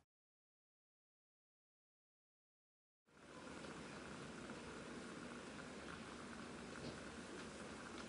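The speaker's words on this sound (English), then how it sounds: "As you can see, my solution has now come to a boil" A supersaturated solution boils in a flask on a hot plate: after three seconds of silence, a steady, dense bubbling hiss starts abruptly and runs on evenly and close.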